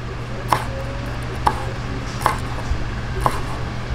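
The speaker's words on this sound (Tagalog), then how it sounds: "Hihiwain po natin siya ng maliliit, bite size po." Knife chopping crispy pork into bite-size pieces on a board, four distinct sharp chops spaced about a second apart, close and clear over a low steady hum.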